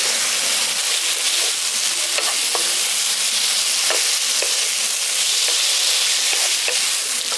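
Soybean korma masala with raisins sautéing in a pan: a steady, close sizzle throughout, broken by repeated scraping strokes of a spoon stirring the spiced mixture.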